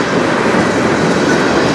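A CN freight train, a potash car among its wagons, rolls past on the Strathroy Subdivision in a loud, steady, close rumble of wheels and cars with no break.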